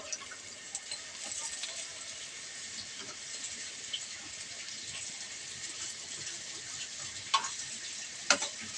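Eggplant slices fry in hot oil with a steady, soft sizzle and bubbling hiss throughout, broken by a couple of brief louder crackles near the end.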